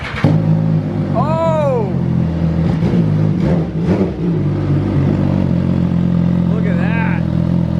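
An MV Agusta F3 motorcycle idles with a steady, loud engine drone and a brief rev swell, while people talk excitedly over it.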